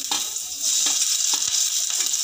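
Garlic sizzles in two spoonfuls of hot oil in a pan while cabbage manchurian gravy is made, a steady bright hiss with a few soft clinks of stirring.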